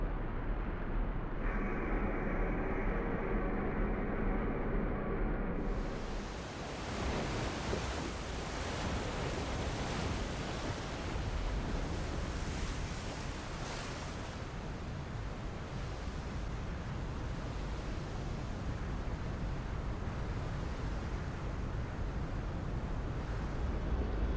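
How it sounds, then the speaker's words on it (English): Diesel engines of a surfaced submarine in the Silent Hunter 5 game, a steady heavy chugging drone blended with broad wind and sea wash, loud and continuous for the whole stretch with no speech. "So now we're back on the surface, the diesels are chugging over"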